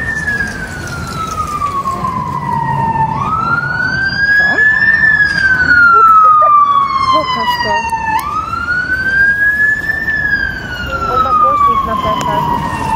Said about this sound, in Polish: On ma głośnik i puszcza z niego sygnały karetki